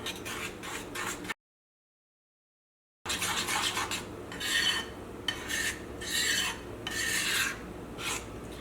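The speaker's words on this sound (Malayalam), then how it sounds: "ഇതെല്ലാം കൂടിയിട്ടൊന്ന് മിക്സ് ചെയ്യാം" Leftover rice, chopped onion and garam masala mixed by hand in a bowl for onion vada, close, gritty rubbing and squishing in repeated strokes, broken by a short silent gap.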